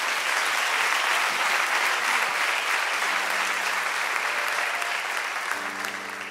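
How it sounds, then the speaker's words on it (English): Congregation applause at a church homecoming revival, a dense, steady wash of hand claps filling the room, with a sustained organ or keyboard tone underneath that gradually fades. "Can we give him a hand clap?"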